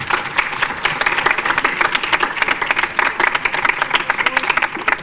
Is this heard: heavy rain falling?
no